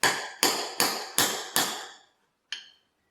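A hammer strikes a chisel five times in a steady rhythm, then once more after a pause, each hit a loud, ringing metallic clang, knocking soft plugs out of the dual-action fuel pump from a 1962 AMC Rambler.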